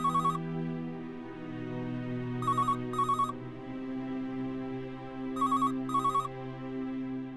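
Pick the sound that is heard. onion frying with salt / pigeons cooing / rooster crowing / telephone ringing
telephone ringing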